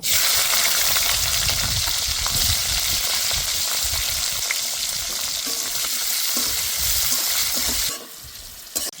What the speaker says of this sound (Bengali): এবার ক্যাপসিকামগুলো ভেজে নেব।